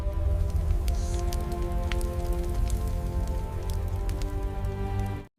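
Steady rain pours down continuously at close range, a dense, even hiss of drops on surfaces that carries through the whole stretch before cutting off abruptly at the end.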